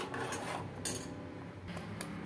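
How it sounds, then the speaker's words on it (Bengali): A spoon scraping and clinking against a pot while semolina pudding with milk is stirred, close, continuous rubbing with a few sharper metallic knocks, no voices. "সুজি তো নাড়তে হয়, জানেনই তো, না হলে দলা পাকিয়ে যায়।"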